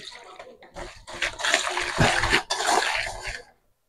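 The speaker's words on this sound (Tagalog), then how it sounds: "Lagay natin ang ating tubig." Water poured into a bowl while making pandan bar bread, a splashing pour that builds, peaks and trails off within a few seconds, heard alone.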